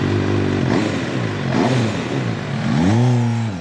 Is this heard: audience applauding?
no